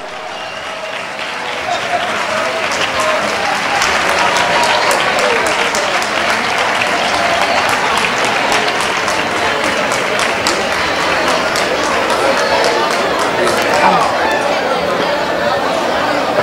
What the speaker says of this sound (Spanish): Le damos un fortísimo aplauso a todos ellos.